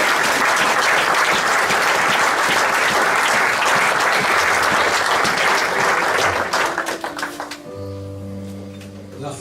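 A church congregation bursts into loud sustained applause for several seconds, the clapping fading out toward the end as a soft organ-like tone takes over.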